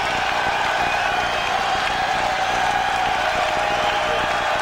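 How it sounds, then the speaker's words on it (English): A basketball arena crowd roars and cheers wildly in a 1993 VCU at Virginia Tech game, a loud, sustained wall of noise with scattered clapping that never lets up. "Now this crowd's going wild right now"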